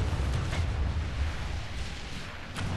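Rolling, muffled battlefield gunfire from the Medieval 2 Call of Warhammer game as Empire troops fire on orcs and goblins: a dense low rumble with a couple of sharper distant cracks, no voices.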